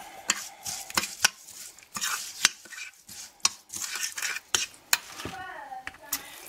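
Spoon clinking and scraping against a bowl while red onion is stirred into a lemon juice marinade, sharp irregular knocks spaced every half second or so, close and fairly loud.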